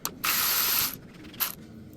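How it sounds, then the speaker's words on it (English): Electric ratchet spinning off the 13mm negative cable nut on the back of the alternator of an Audi A4 B7, heard as a loud hissing whir lasting under a second, then a brief second burst. "We're going to use the electric ratchet and get it off."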